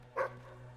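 A single short bark from a dog in the video game Fable III, close and clear over a low steady hum.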